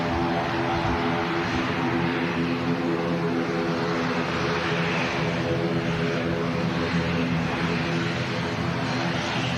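Club aircraft at Manchester Airport, a steady droning engine hum with a broad rushing wash, loud and constant with no clear rise or fall.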